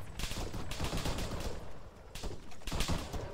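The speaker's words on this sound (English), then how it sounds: "Got gunfire coming in." Bursts of rapid gunfire crackle in an ARMA 3 squad firefight, with several dense volleys separated by brief pauses and heard at moderate distance without voices.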